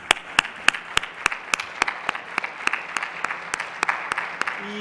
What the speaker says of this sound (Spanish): quisiera dar nuevamente un aplauso a los ponentes